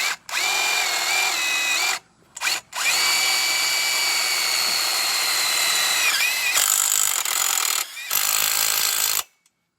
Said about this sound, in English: I'm gonna go ahead and tighten this screw back up.